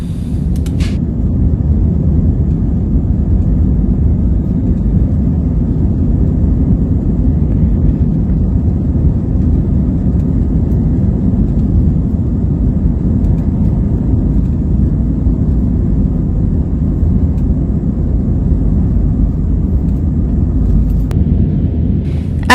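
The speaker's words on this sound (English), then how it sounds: "As the plane was ascending, the pilot flew through a small rain cell." Steady, loud engine roar inside an airplane climbing out of Orlando International Airport and flying through a small rain cell. The droning rumble continues unbroken, with no talking.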